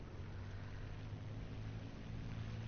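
An aircraft engine in War Thunder drones steadily as it throttles up during a simulator-mode takeoff, a low continuous rumble with no voices over it.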